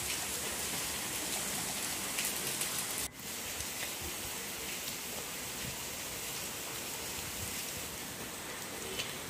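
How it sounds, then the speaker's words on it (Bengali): Steady rain falls on an afternoon of heavy downpour, a dense, even hiss of drops on surfaces with a brief dip partway through, continuing with no one speaking. "গতকালকে কিন্তু অনেক বৃষ্টি হয়েছিল, প্রায় দুপুর থেকেই বিকেল পর্যন্ত"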